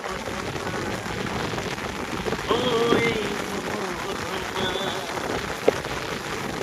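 Steady rain patters on a surface with a constant hiss, and a voice briefly calls out amid the downpour.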